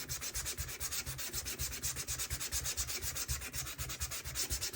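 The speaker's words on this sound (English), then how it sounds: "this is where I want to sand it down a little bit." Paper edges on a scrapbook layout are rubbed with sandpaper in quick, even back-and-forth strokes, a soft rhythmic scratching heard close and quiet, with no talking.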